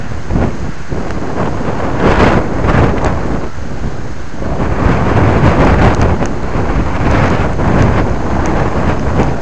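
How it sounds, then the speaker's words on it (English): Strong wind gusts roar around a homemade rooftop antenna mount by a chimney, a loud continuous buffeting rush that swells and eases in waves, with no talking. "It just survived a 6 to 8 mile per hour wind gust."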